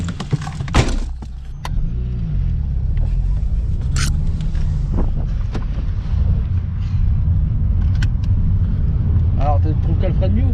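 A Renault Clio drives along during a braking test, its engine and road rumble holding a steady, close drone throughout, with a few clicks and rattles inside the cabin while people talk over it.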